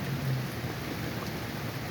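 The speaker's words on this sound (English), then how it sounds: "so it's a steady rain" Steady rain falling outdoors in the evening, a continuous even hiss of drops with a low rumble underneath, no voices.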